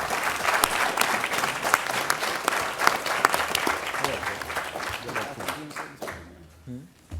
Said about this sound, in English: Let's give a round of applause to all of our candidates.